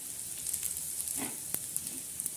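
Black masala roasting in a pan for a stuffed brinjal curry, a soft, dry crackle and sizzle with a few scraping stirs and small pops, fairly quiet and close, with no talking.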